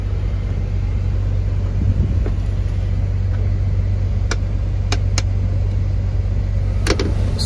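Steady low rumble of a small Wisconsin bus heard from inside while riding, with a constant drone and a few sharp clicks or rattles near the end.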